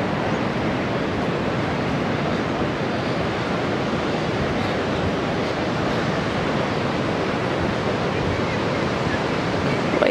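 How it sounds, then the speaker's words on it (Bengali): Sea waves breaking on the beach at Cox's Bazar, heard as a dense, constant broadband wash of surf with wind, steady and loud throughout, no voices. "ঢেউর কত সুন্দর আওয়াজ যেটা সবাইকে মুগ্ধ করে দিবে"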